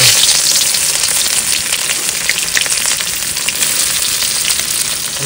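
Chopped onion with dried red chilli and whole cumin sizzling steadily in hot oil while free-range chicken is cooked on a boat; a loud, continuous frying hiss with no talking.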